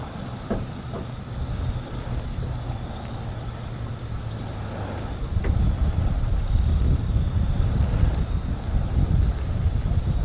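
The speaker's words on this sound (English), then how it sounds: "the wind's just going to keep blowing every direction and making me change my sides here" Steady wind buffets the microphone on an open fishing boat over water, a continuous low roar that strengthens and thickens partway through, with no voices.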